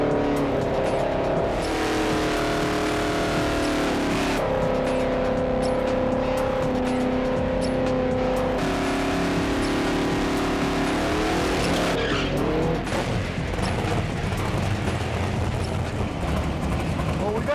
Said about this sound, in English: mostly a fiberglass body now, 800 horsepower Chevy big block motor, turbo 400 and a 9-inch Ford rear